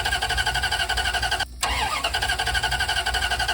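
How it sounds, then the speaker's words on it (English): A car's starter cranks again and again without the engine catching, a breakdown during a Florida road trip after a night parked in a Cracker Barrel lot. The churning is steady and rhythmic, close and loud, with a brief break partway through. "Tried to start it, just doesn't start."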